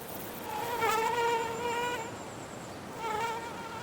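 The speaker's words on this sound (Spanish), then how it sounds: "Al anochecer, cuando salen los tricópteros, el aire vuelve a llenarse de insectos." Caddisflies and other insects flying at dusk on a summer evening, making high, thin buzzing whines that rise and fade as they pass close by, with a softer drone in between.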